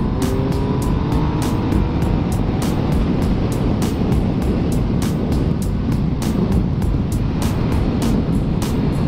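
A 2016 Triumph Speed Triple S motorcycle engine roars steadily at close range, loud and continuous, with rushing wind noise over it.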